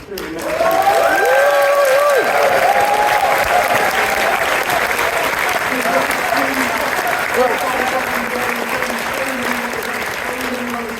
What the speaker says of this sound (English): I'd like a big cheer for the welfare team